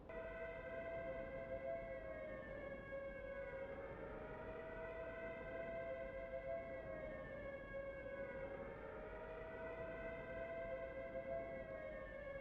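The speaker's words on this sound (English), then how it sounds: "Have the chaps ready to move as soon as we hear those air raid sirens." Wartime air raid sirens wailing from a distance, several overlapping tones rising and falling in slow, repeating cycles over a steady low rumble, with no talk.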